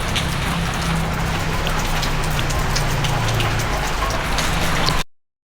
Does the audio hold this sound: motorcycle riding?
no